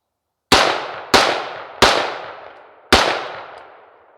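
Four sharp gunshots from a modernized AR-15 rifle with a 1x red dot, spaced unevenly with a longer gap before the last, each loud and close with a decaying echo tail.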